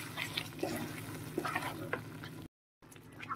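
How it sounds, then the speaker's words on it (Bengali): Spice paste with cashews and raisins sizzles and is stirred in a pan for chicken malai kabab. The frying crackle is close and steady, with scraping stirs and a brief cut near the end. "এবার একটু ভালো করে কষিয়ে নেব।"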